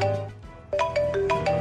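Mobile phone ringtone, a short melodic electronic tone pattern that starts after a brief pause and repeats several bright notes, close and clear with no talk.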